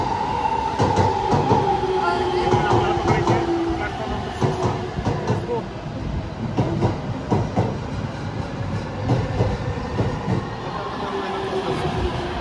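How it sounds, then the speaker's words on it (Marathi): Train pulling into a station in Japan, with loud, steady rumbling, rail clatter and squealing brakes over about twelve seconds, while people talk faintly in the background. "आली ट्रेन"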